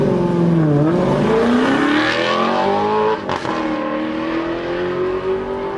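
A real Alfa Romeo 8C sports car engine revs and roars continuously, rising and falling in pitch with a brief dip in the middle, close and loud with no talking.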